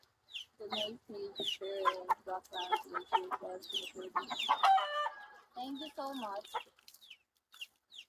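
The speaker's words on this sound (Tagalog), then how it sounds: "Daming manok." Several nearby chickens cluck in busy, overlapping bursts, with a rooster-like crow mixed in, while a person speaks briefly.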